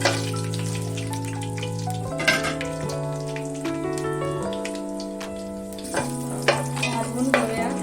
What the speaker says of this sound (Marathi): आणि खडे मसाले आहेत ते यामध्ये टाकून घेऊया।